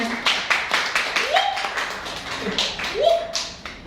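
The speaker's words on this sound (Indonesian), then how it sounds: "Lalu diberikan tepuk tangan dulu deh boleh" A small campus audience at a student association leadership debate claps in quick, uneven rhythm, with a couple of rising vocal whoops and voices mixed in over the short burst.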